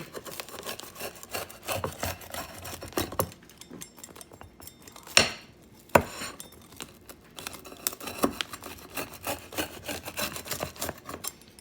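Repeated rough scraping and crunching strokes as a cutter rolls through the crisp crust of a Schwan's pizza baked in a Gourmia air fryer toaster oven, with a couple of sharp clacks midway.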